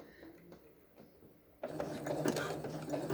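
After a quiet stretch with soft handling sounds, a sewing machine starts up and runs a straight stitch through paracord on a face mask, close and fairly loud for the final second and a half.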